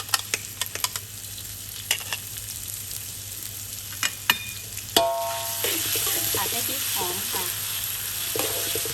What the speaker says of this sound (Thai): ตั้งกระทะใส่น้ำมันค่ะ ใส่พริกที่เราปั่นลงไปเลยค่ะ